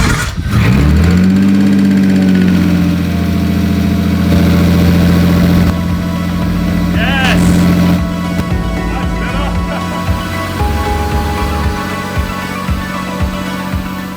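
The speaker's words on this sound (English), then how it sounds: "the engine was running on all 6 cylinders nice and smooth" A Nissan Skyline R32's six-cylinder engine cranks, catches and settles into a loud, steady idle with a smooth, even rumble that continues to the end.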